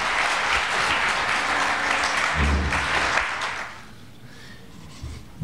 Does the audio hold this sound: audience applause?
yes